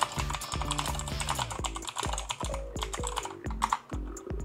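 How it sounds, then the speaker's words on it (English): Fingers tap steadily on a computer keyboard, a quick, close, fairly quiet run of clicking keystrokes with small pauses between bursts and no talking. "if you don't feel like talking, you could just type to her."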